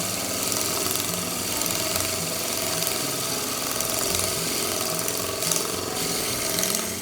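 A vintage drill press with a DP PRO system upgrade drills steadily without a dust collector, giving a continuous loud mechanical whir and rattling chatter throughout, close and with no talk.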